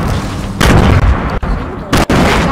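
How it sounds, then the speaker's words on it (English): Grenade explosions in the video game Fortnite, a loud sustained roar of blasts broken by two sharp dropouts, close and dense, with no voices over it. "Someone's grenading."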